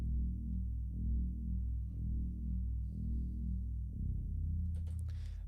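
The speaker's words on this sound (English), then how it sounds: "this is the drop bass." A deep drop bass in an orchestral arrangement of a song pulses as a low sustained swell, slowly rising and falling, with a brief bright burst near the end.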